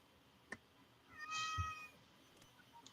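A female cat in heat gives a single drawn-out, harmonic meow at moderate distance, briefly rising and falling, with a faint knock just before it in an otherwise quiet room.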